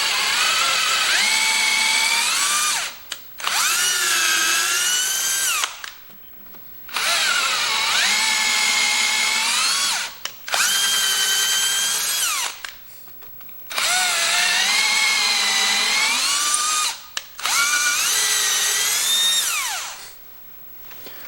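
A whining power tool on a 1974 John Deere 112 lawn tractor engine works the flywheel loose in six sustained high-pitched runs of a few seconds each, close and loud, separated by short pauses.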